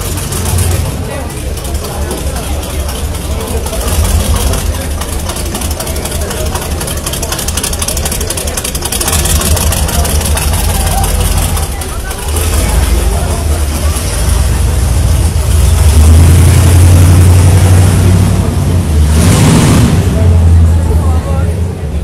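A Dodge Ram pickup truck engine rumbles loudly and continuously nearby, with a deep low-end roar that swells toward the end, while people talk over it.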